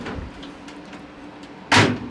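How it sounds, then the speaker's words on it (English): A GE dryer's door, repaired after not closing properly, swings shut with one short soft thud near the end, following a quiet stretch of room tone. "see how smooth and nicely the door closes"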